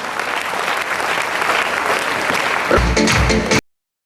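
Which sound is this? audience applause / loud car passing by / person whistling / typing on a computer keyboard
audience applause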